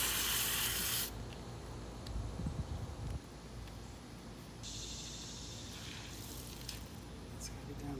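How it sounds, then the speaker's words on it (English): A Graco Magnum X7 paint sprayer gives a steady hissing spray through most of the clip, starting with a loud burst and continuing at a lower level with faint background noise. "I'm gonna spray the inside of that a little bit."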